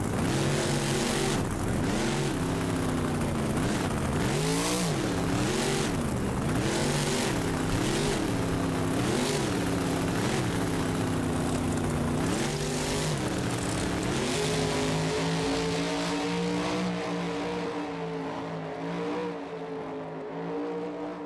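Monster truck King Krunch revs its engine hard in BeamNG during a Monster Jam style freestyle contest, a loud sustained roar with repeated rising and falling throttle swells before settling into a steadier drone.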